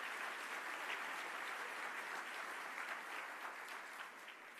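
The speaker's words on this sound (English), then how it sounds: "So let's give our legislative delegation a round of applause." Faint, distant applause from the audience at a county address, steady clapping heard alone that tapers off slightly toward the end.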